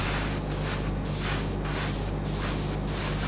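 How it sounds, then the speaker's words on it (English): Paint spray can hisses in five short bursts of roughly half a second each, loud and close, separated by brief gaps with no talk. "when spraying, guys, make sure you don't just like spray all over"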